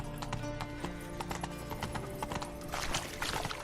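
Roach the horse trotting in The Witcher 3, a steady rhythmic clip-clop of hooves with a brief whinny, heard alone at moderate distance.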